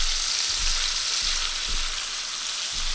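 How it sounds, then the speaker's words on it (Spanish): Meatballs fry in oil in a pan, giving a steady, dense hiss of sizzling with a few faint low bumps as they cook, close and continuous with no voices. "iremos colocando nuestras albóndigas y dejaremos que se vayan cociendo"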